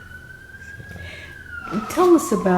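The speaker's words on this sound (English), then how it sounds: "Wait, can you answer after the siren?" A steady siren tone wails in the distance and slowly drifts lower in pitch while a person nearby starts speaking over it.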